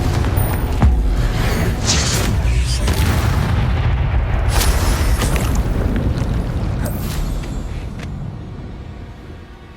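Repeated magical blasts from the Confringo fire spell in the video game Hogwarts Legacy, loud booming explosions close together amid combat noise, fading toward the end.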